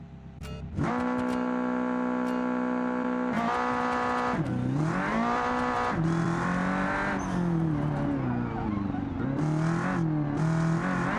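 Drag car built for realism driving in the BeamNG game, its engine droning loudly and continuously with rising and falling revs through corners, the steady harmonic hum filling the clip with no talk.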